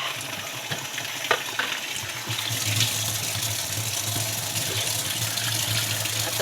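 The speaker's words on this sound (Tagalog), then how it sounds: "Butangan sa nako ning tubig oh." Water streams steadily into a cooking pot to be heated, making a continuous rushing splash that grows fuller partway through. A few clicks and knocks come early on.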